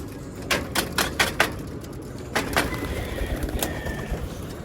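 Racing pigeons in a loft in Navotas flap their wings in several sharp bursts of clattering, then soft cooing follows, all fairly close with no talk.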